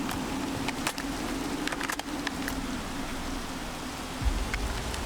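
Rain falls at night in a zombie survival video game on an island, heard as a steady soft patter and hiss that stays even throughout, with a few brief clicks and a low thud near the end.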